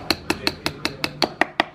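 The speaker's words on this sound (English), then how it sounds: "And we're gonna give it a little bit of a hammer." A hammer taps a steel punch to drive a tight pin out of an HK MP5 9mm during a field strip, ten light, evenly spaced metallic clinks close up.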